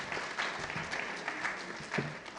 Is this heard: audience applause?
yes